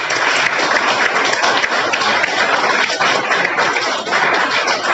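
Loud, dense applause from an audience at a network marketing team meeting in Hisar, filling the whole stretch as a steady wash of clapping that welcomes the next speaker.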